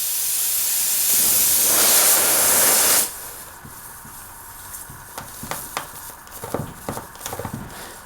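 Air escapes in a strong, loud hiss from a leaking tire for about three seconds, then cuts off, followed by scattered clicks and knocks.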